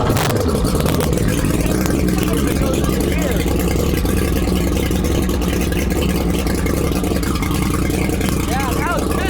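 The engine of a restored 1980s offshore racing boat cranks up and revs. It gives a loud, continuous, rough roar up close, with people talking over it.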